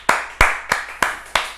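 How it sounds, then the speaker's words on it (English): A single person claps in a steady rhythm, five sharp, close, loud claps spaced evenly, alone without talk. "So let's give them another clap."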